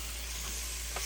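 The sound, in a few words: stirring Cajun seasoning in a cooking pot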